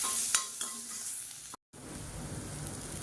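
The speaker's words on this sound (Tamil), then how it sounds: "இதில் ஒரு 5-6 பெரிய பல்லா பூண்டு எடுத்துருக்கேன். நச்சு வச்சுருக்கேன். அதை சேர்த்துக்கலாம். இது நல்லா மொறுமொறுன்னு வரணும். அந்தளவுக்கு வறுத்துக்கலாம்." Peeled garlic cloves fry in a pan while making idli podi, a steady close sizzle with a few stirring clicks near the start, cut by a brief moment of silence before the frying resumes.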